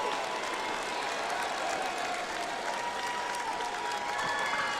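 Dense, sustained applause and cheering from an arena crowd after an MMA tournament bout win, a steady wash of clapping close and loud with no breaks.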